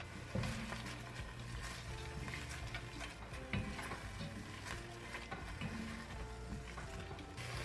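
Diced onions cook in a little olive oil inside a Dutch oven, giving a steady, close sizzle with scattered scrapes and light clinks of a utensil against the pot throughout.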